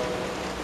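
Heavy rain pours steadily in a brief, dense, close wash of downpour noise, with no voices.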